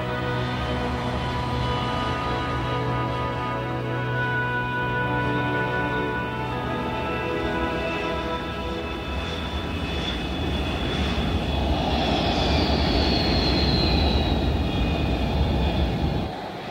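The X-22 tilt-rotor aircraft flies with its rotors held at an angle and sets down in a short landing. A loud, steady propeller and engine drone with tonal whine lasts throughout, swelling slightly near the end.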